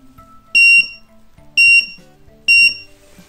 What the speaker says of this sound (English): whenever I press, this push button sounds